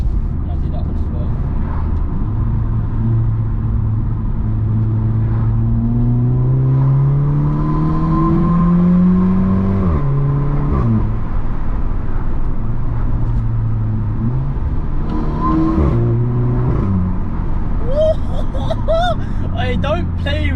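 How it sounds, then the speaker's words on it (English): Car with a Gravity Performance aftermarket exhaust accelerating through the gears, its engine note rising loud and close from inside the cabin, with repeated revving sweeps and people talking over it. "Oh my god, honestly, this exhaust sounds crazy."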